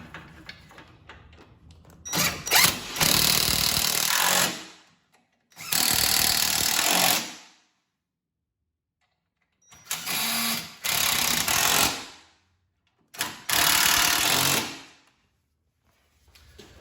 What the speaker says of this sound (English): then you're going to tighten them down with a 14 millimeter socket